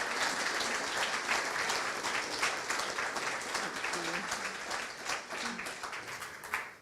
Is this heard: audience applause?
yes